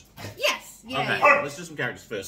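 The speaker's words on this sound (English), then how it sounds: "The dogs are all playful today." Playful dogs bark and yip in short bursts in the background while people talk over them during a board game session at a table.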